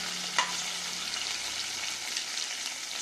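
Red chilies sizzle in hot oil for methi aloo, a steady bright frying hiss that stays even and fairly close, with a brief clink of a utensil near the start and no talk.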